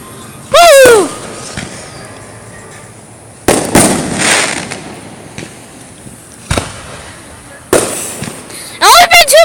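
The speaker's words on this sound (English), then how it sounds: "It's only been 2 minutes now and they're already epic fireworks!" Fireworks go off overhead in rapid succession, with sharp loud bursts, crackling, and rising whistling shells. Several heavy booms and a few quieter pops are spread across the stretch.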